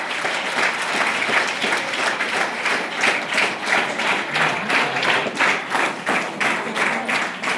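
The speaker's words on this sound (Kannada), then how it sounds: "Give us a clap." An audience in a hall claps steadily for Miss Sudha Naikodi, a dense, even round of applause from many hands that holds strong throughout without fading, with no one speaking over it.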